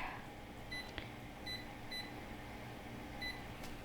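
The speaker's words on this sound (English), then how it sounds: "And we'll put this timer for" A kitchen timer gives several short, high, faint beeps at irregular intervals as it is set for baking, over a steady background hum.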